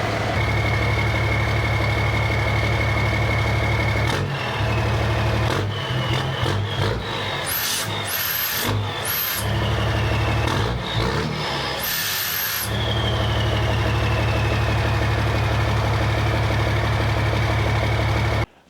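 A straight-piped Cummins diesel dump truck sits idling late at night, a loud low steady rumble heard up close, broken midway by several seconds of rubbing, knocking and scraping handling noises before the drone settles again.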